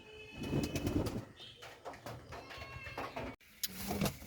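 Soft coos from Pakistani Giribaz high-flyer pigeons repeat near and far over a busy background of rustling and clattering, with a brief gap before the cooing resumes.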